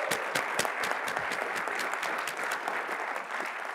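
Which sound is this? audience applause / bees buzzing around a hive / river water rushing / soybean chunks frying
audience applause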